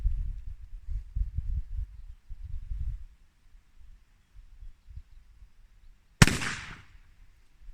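A single loud gunshot from an 1851 Navy revolver with an 1871 cartridge conversion cracks out near the end, a sharp close blast with a short ringing decay, after low rumbling handling and background noise.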